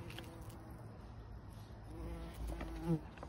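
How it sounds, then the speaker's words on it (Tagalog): A bee buzzing close by, a faint fluctuating hum that swells briefly near the end over quiet background noise. "Ang bubuyog."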